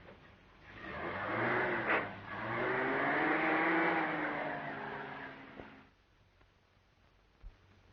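A passenger car being driven with people riding inside, its engine drone swelling and shifting pitch for several seconds before fading away, with no talking over it.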